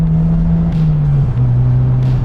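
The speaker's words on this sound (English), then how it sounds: "Up here with the RoadsterSport race muffler." Mazda NC Miata fitted with a RoadsterSport race exhaust muffler, droning steadily at cruise with a strong low exhaust tone that dips slightly as revs shift, loud and close for a couple of seconds.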